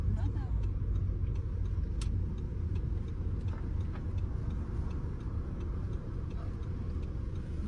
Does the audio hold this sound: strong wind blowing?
no